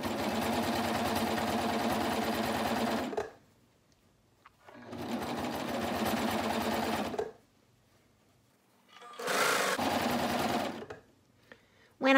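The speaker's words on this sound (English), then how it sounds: "We're going to cover stitch in the round." Sewing machine cover stitching a knit neckband in the round runs in three fast, steady whirring bursts, with quiet pauses between them, close and clear.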